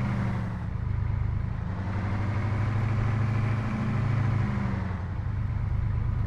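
Engine of a vehicle idling in the video game Arma 3, a steady low rumble with a continuous throb that holds evenly for several seconds, loud and alone without talk.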